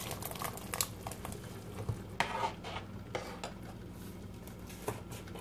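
A metal spoon scrapes and clinks against a pan as boiled rajma beans are stirred into thick masala, with light irregular knocks and a faint sizzle, close and without talk.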